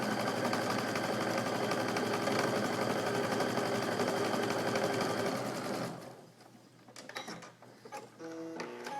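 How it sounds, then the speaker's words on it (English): A sewing machine whirs in a fast, steady stitching run through fabric squares for several seconds, then stops, leaving light handling clicks and rustles. "we're just going to put those through the sewing machine"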